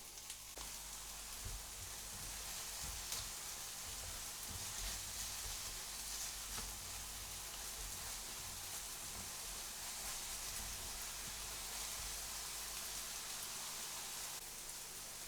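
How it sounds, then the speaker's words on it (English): Vegetables sautéing in a pan for a Jamaican ackee dish, a soft, continuous, even sizzle with faint crackles, steady and quiet throughout with no voices. "So I'm going to let that saute for a little bit"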